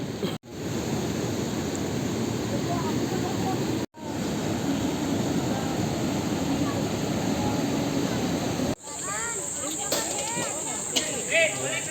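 Water rushes past a dam in a loud, continuous roar, broken by a few abrupt cuts, with voices faintly audible near the end.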